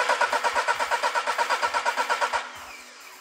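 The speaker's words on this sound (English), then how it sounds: "And I can crank the engine." A car engine cranks on the starter during a cylinder compression test with a digital pressure tester, giving about twenty quick, even rhythmic pulses before stopping abruptly, leaving a faint hiss.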